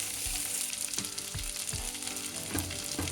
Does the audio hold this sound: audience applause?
no